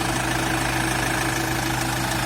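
An Iveco Daily 35 van's diesel engine idles steadily close by, a low even rumble with a faint knocking rhythm and no voices.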